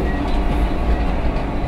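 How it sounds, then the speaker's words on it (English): Train from London Paddington to Penzance in Cornwall, heard from on board: a loud, steady low rumble of the moving carriage with faint rhythmic wheel clatter, without speech. "The journey starts by train from London Paddington to Penzance in Cornwall."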